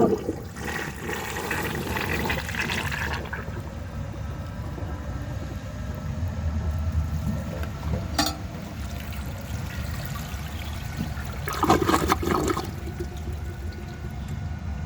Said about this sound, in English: I'll try another flush.